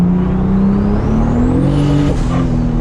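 A Toyota Supra MKIV pulls hard up to 60 mph. Its engine note climbs steadily in pitch, loud and close, through a single sustained run with a brief shift dip near the end.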